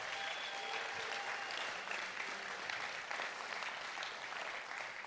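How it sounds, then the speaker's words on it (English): An audience at a church gathering gives the mothers present a big round of applause, a continuous, even clapping from a large crowd, heard at a moderate distance with no speech over it. "Can we just give a huge hand to all of the moms that are here today?"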